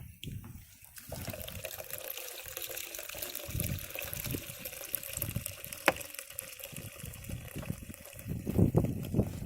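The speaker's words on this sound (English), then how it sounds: "The juice goes down mostly through the bottom, but then out to the sides too. And it all flows towards the front." Apple juice flows out of a cider press in a continuous soft trickle and gurgle, quiet and close, with faint creaks and drips throughout.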